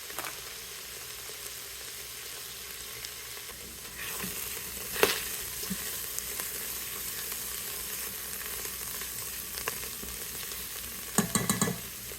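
Mushrooms, onions and garlic frying in a pan, giving a steady close sizzle that grows louder and brighter partway through as more food goes in, with a few stirring scrapes and clinks.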